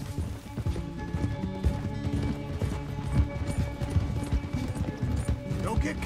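A horse gallops in the video game Red Dead Redemption 2, a steady close rhythm of hoofbeats running throughout while voices talk over it.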